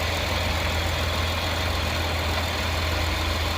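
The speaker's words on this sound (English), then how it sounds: "Just bring up that RPM a couple times, you know, by hitting the gas." Cadillac XT5 engine running after a jump start with a bad alternator, a steady close idle drone with a continuous low rumble and no distinct rev peaks.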